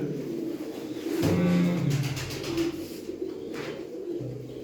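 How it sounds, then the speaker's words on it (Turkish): Kart pigeons from the Dumanlı family coo in low, repeated phrases, moderately close, with a steady rustling background and occasional faint animal noises mixed in. "Kart kuşlarımız"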